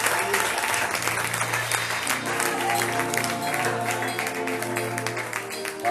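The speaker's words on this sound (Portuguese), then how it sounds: "Você pode aplaudir ao nome do" Applause from a church conference congregation, dense and steady throughout, mixed with sustained music and some voices.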